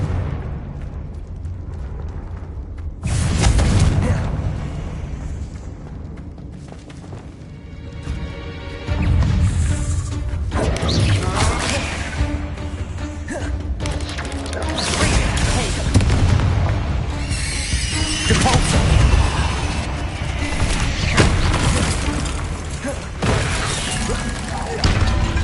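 Booming spell blasts from Confringo fire in the video game Hogwarts Legacy, several loud bursts spread across the clip amid dense game effects and music, with a voice talking over them.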